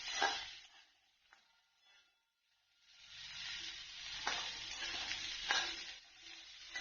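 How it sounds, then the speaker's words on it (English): Cut potatoes are stirred in hot oil for sabudana khichdi, with a brief sizzle, a quiet pause, then a louder sustained frying hiss and a few scraping stirs. "add the cut potatoes and stir nicely"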